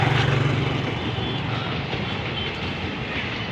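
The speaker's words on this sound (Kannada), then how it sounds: "ಆಗಲೇ ಇನ್ನೊಂದು ಟ್ರೈನ್ ಬಂತು" A passenger train passes close by with a loud, steady rumble and roar, strongest at the start and then holding even, with no one speaking.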